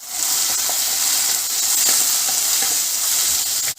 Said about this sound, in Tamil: பச்சை மிளகாவையும் உருளைக்கிழங்கையும் போட்டுடலாம். போட்டு உப்பையும் போட்டு கிளறி விட்டுக்கோங்க.